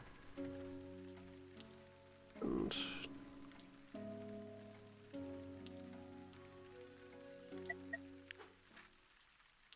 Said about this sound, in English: Rain is back.